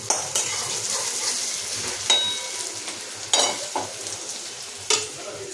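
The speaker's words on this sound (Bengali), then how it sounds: "মনে হবে যে কি সুন্দর পেঁয়াজ ভাজা হচ্ছে।" Onions fry with a steady sizzle in a hot pan, joined by several sharp scrapes and clinks of a utensil stirring against the metal; no voices.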